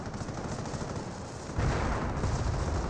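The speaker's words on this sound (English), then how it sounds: "And avoiding all the mortar shots." Mortar shots and battle noise in the World War II strategy game Company of Heroes, a dense, continuous rumble of distant gunfire that jumps louder halfway through with a heavier low-end blast.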